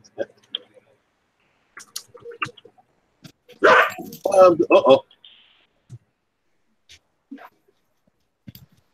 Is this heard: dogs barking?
yes